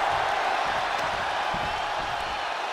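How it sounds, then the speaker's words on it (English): A large crowd roars at a combat fight, a dense, loud, continuous wash of cheering and shouting with no breaks. "The sound of this crowd is deafening"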